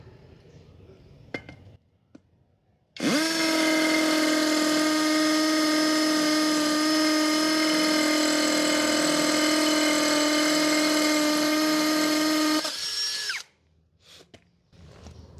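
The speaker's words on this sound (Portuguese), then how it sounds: "Eu vou colocar a Hanabi aqui para a gente fazer um teste com a mesma broca." A Hanabi cordless drill bores into material with a drill bit under light pressure, a loud, steady high-pitched whine held for about ten seconds before winding down, with quiet handling noises before and after.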